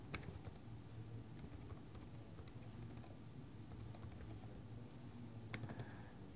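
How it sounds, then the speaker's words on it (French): Soft, steady clicking of someone typing a username on a computer keyboard, a run of light keystrokes throughout over a low background hum, fairly faint and close, with no talking. "ainsi tapez votre pseudo"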